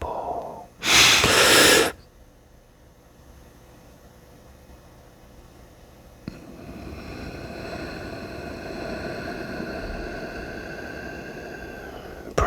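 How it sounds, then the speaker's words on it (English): A slow, quiet breath let out through the nose during a whispered breathing exercise: a brief loud intake near the start, then a long, soft, steady airy exhale that continues for several seconds with no talk. "Breathing exercise"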